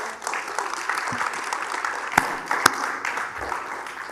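A panel audience applauds the panelists at the close of a Zoroastrian advocacy discussion, a thin, moderate round of clapping with a couple of sharper close claps standing out.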